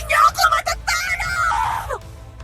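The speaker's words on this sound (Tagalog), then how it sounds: "Umalingaw-ngaw sa paligid ang napakalakas na sigaw" A woman screams very loudly, a long strained cry with an echoing quality, rising and breaking off after about two seconds over a low rumbling background.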